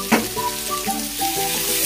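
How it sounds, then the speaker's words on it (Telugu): Ivy gourd (tindora) pieces fry in a pan with a spoonful of salt, a continuous close sizzle with light stirring scrapes over it. "దొండకాయలు వేగడానికి కొంచెం టైం పట్టింది"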